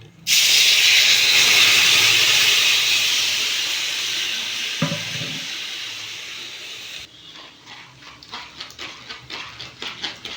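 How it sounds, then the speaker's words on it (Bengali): Tomato paste goes into a hot wok on a gas stove, bursting into a loud sizzling hiss that slowly fades, followed by quieter rhythmic stirring and scraping. "গ্যাসটা অন করে আমি কড়াইটা বসিয়ে দিয়েছি এর মধ্যে আমি দিয়ে দেবো টমেটো পেস্টটা"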